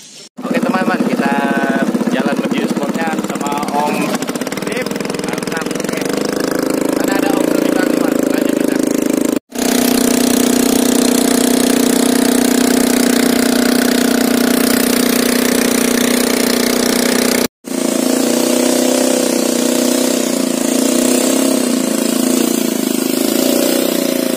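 Loud motorboat engine droning continuously in East Borneo, its pitch rising as it revs, with voices heard faintly at the start.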